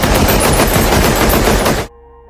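Rapid automatic gunfire in a cartel movie scene, a dense loud burst of shots lasting nearly two seconds before cutting off abruptly to near silence.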